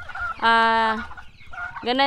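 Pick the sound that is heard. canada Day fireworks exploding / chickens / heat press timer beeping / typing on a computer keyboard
chickens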